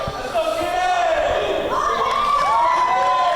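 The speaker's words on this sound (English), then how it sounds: "capacity crowd here, Santa Fe, Texas. Absolutely. They love Kenny Calypso" Capacity crowd at an independent pro wrestling show in Santa Fe, Texas, roaring and cheering loudly and steadily, with a commentator talking over the noise.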